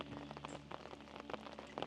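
Light rain falls beside a canal, a steady patter of drops with soft pocked hits scattered through the moment, nearby and fairly quiet with no voices.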